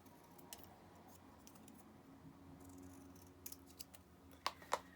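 Scissors snip a printed paper word for a junk journal, a few quiet, scattered cuts ending in two sharper, louder snips against a faint background.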